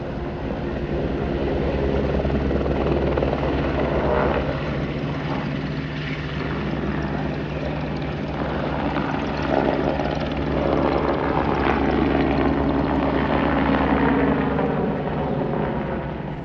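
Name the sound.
helicopter ride in Gulmarg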